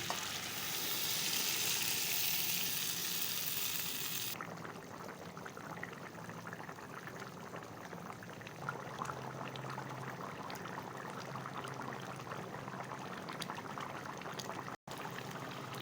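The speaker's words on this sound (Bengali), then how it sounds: "সামান্য পরিমাণ পানি দিয়ে দিব।" Small amount of water poured into rohu fish frying in a pan: a loud burst of hissing sizzle for about four seconds, then settling into a quieter steady simmering crackle, no talk.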